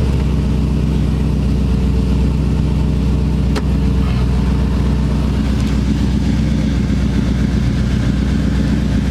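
The engine of a 1950 Chevy Deluxe running at a steady idle, a loud, close, even low rumble with a couple of faint clicks over it.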